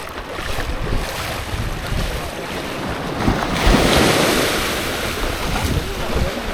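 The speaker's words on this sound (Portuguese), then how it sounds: "Gostoso esse barulho das ondas." Ocean waves wash in with a steady roar on a beach at Ponta das Canas, Florianópolis, swelling louder midway, with wind buffeting the microphone throughout.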